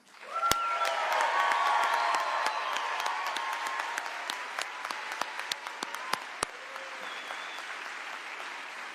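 A crowd at NASA's introduction of a new astronaut candidate class applauds steadily for several seconds, with scattered louder claps standing out, the clapping gradually thinning toward the end.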